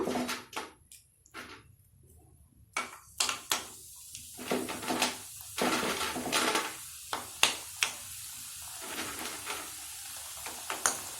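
Aval vadagam (flattened rice crisps) frying in hot oil crackles and sizzles steadily, with sharp pops and clattering bursts of spattering scattered throughout, close up and without speech.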